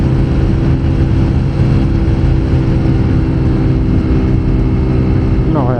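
TVS Apache 200 Fi ABS motorcycle engine droning steadily while riding through curves, loud and continuous with wind rush, a brief rising rev near the end.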